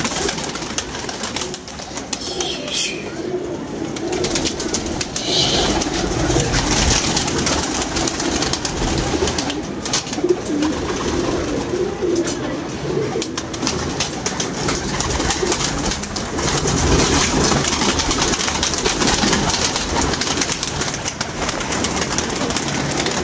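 Pigeons coo softly and repeatedly against a steady outdoor background hum, with occasional rustling and bumps nearby.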